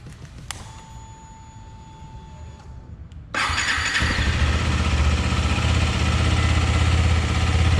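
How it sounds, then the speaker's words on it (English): A KTM Adventure 250 motorcycle engine cranks with a brief whir and then catches, settling into a loud, steady, rumbling idle exhaust note close by that continues to the end. "Now let me turn on the engine and hear the exhaust note."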